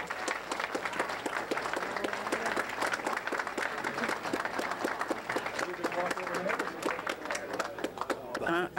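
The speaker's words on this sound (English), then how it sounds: "Big round of applause for Eleanor Shuman." Studio audience at a 1997 Titanic television special applauds steadily for nearly nine seconds, dense clapping throughout with a host's voice talking over it.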